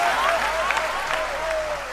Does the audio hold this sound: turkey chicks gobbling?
no